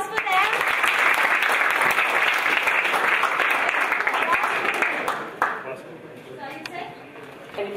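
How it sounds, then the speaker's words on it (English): An audience at an urban hackathon in Hyderabad breaks into sustained applause, loud and dense for about five seconds before dying away into scattered claps and a voice speaking. "A bigger round of applause for them."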